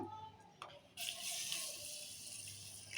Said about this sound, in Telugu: ఇప్పుడు ఈ మంచినవ్వులు కడుక్కుందాము